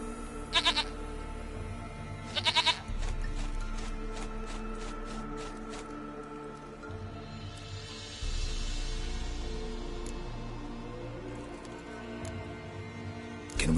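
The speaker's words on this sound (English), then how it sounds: "Goat of mine, dearest," A goat in The Witcher 3 bleats in two short loud bursts near the start, followed by a long stretch of quieter ambient game sound and faint bird chirps.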